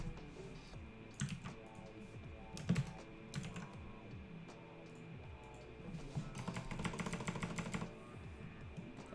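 Fingers type on a computer keyboard in quick clacking bursts with short pauses, ending in a dense run of keystrokes, close and fairly quiet.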